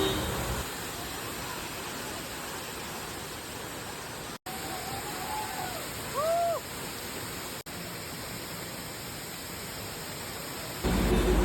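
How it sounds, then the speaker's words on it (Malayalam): Rushing water at Achankallu waterfall in Konnakkad during the monsoon, a steady broadband roar that holds throughout, with a few brief bird-like chirps in the middle and no talking. "ഞാൻ ഫസ്റ്റ് ടൈമാണ് ഈ അച്ചൻകല്ല് വെള്ളച്ചാട്ടം കാണാൻ വരുന്നത്."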